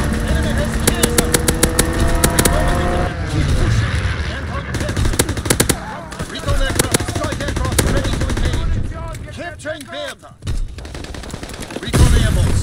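Video-game combat with crackling gunfire bursts and a fighter plane strafing a target, engine-like roars and repeated shots layered loudly, with talk mixed in.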